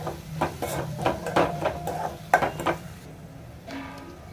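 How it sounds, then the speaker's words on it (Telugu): Turmeric and salt being stirred into a Telangana-style fish curry in a pot, with a spoon clattering and scraping against the metal in quick uneven strokes that fade out toward the end. "కొంచెం పసుపు వేసుకుంటున్నాను ఉప్పు కొంచెం తక్కువ వేసుకోవాలి"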